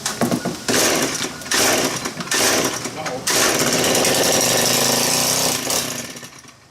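A Stihl KM130 4-mix engine, set on fast idle with no choke, fires and sputters in rough bursts and then settles into a loud, steady high rev, close by, while a voice talks.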